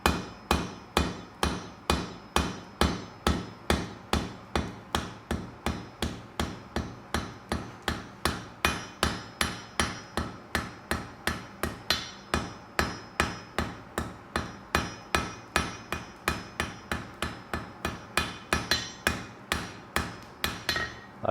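A blacksmith hammers a 6 by 6 millimetre steel bar to draw out a taper, rapid even ringing blows on the anvil repeating steadily for about twenty seconds, close and loud, with no talk.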